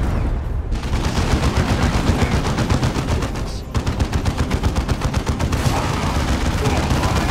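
Defensive guns fire in the video game Dawn of War 2, a loud, continuous rattle of rapid machine-gun bursts that runs almost without pause, dipping briefly once before resuming.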